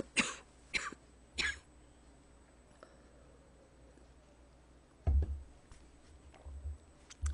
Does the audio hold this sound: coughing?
yes